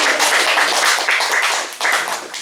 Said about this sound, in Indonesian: Mari kita tepuk tangan untuk beliau-beliau.